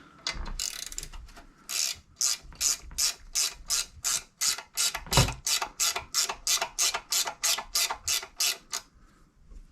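A ratchet wrench loosens the last bottom bolt on a Briggs water pump, producing a long run of about twenty brisk, evenly spaced clicking strokes, close and fairly loud.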